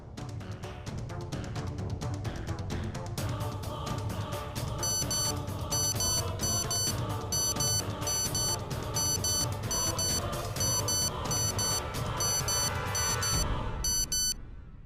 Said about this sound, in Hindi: अपनी घड़ी का अलार्म जरा अदालत को सुनाने का कष्ट करेंगे